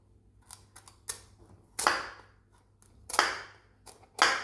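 A saw rasps through a red kuri squash (potimarron) in several separate strokes, each a short burst of harsh, scratchy grating with quiet pauses between, close and fairly loud.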